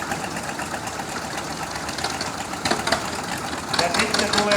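A vintage tractor engine at a veteran machinery show in Oulainen runs steadily with a throbbing, knocking idle that grows louder and busier toward the end.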